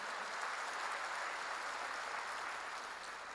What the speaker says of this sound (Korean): 지금 박수로 응원을 드리시면